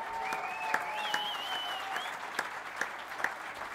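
Audience applause at a live music show, moderately loud and steady, with a few sharper claps standing out and a faint whistle-like tone running over part of it.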